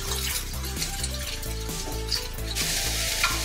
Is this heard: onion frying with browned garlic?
yes